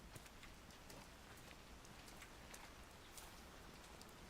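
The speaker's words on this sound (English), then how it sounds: "now now it's raining again." Steady, dense video game rain pattering on a surface, with scattered sharper drops ticking through, continuous and close, no voices.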